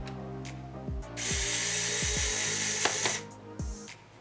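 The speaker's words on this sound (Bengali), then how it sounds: "প্রথমে একটি ল্যাপটপের স্ক্রু খুলে দেখব।" A powerful rechargeable mini cordless screwdriver with a small screw bit unscrewing a laptop screw: a short whining motor run of about two seconds between light clicks and taps, close and clear.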